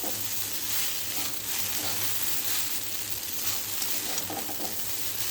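Vegetable chow mein stirred and fried in a pan, a steady broadband sizzle with soft scraping of the stirring, constant and close throughout.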